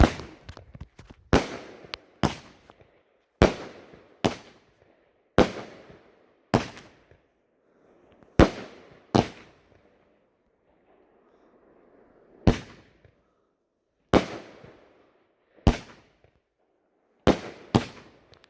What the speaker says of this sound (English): Gizmo, Flashing Fireworks, 200 gram, 16 shot.